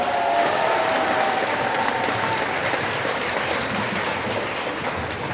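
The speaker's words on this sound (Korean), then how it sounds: "박수로 우리 맞아요" Sustained audience applause greets a speaker at a Seoul press conference, a steady dense wash of clapping held at even loudness throughout.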